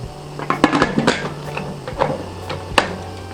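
Metal lid of a pressure cooker set onto the pot on a stove while cooking goat kaldereta, a series of sharp clanks and scrapes of metal on metal with short pauses between, close and clear.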